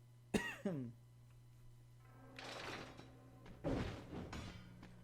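A couple of quick coughs ring out over a low steady hum, followed by softer breathy throat-clearing noises; no talking.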